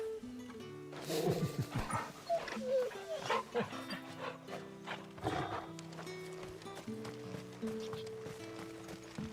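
Dog and horse sounds in the video game Final Fantasy XVI: scattered barks and hoof clip-clops mix with a musical score and game effects, moderately loud throughout.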